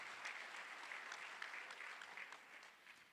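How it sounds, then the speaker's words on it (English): A gala auction crowd gives a donor a round of applause: soft, distant-sounding clapping from many hands that holds steady and then tapers slightly at the end. "Let's give her a nice round of applause, ladies and gentlemen."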